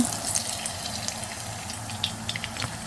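Pointed gourd (potol) slices frying in hot oil, a steady close sizzle and crackle with faint scraping stirs throughout, no talking.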